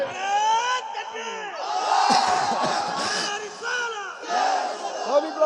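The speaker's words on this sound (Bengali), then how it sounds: "ইমাম সাহেব একটা তাকবীর দেওয়া লাগছে" A large crowd at an Islamic Shab-e-Barat sermon shouts the takbir together in loud, rising chants, with several surging waves of voices in quick succession.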